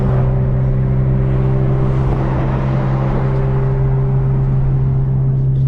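A BMW M3 with a manual gearbox accelerates hard, the engine droning loud and close from inside the car in a continuous run, pitch climbing and settling as the driver works through the gears, with no talking.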